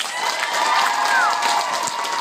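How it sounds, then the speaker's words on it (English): Audience at a cosplay masquerade contest applauds, a dense steady wash of clapping with some cheering and voices, fairly loud and sustained across the short stretch. "Let's give him a round of applause."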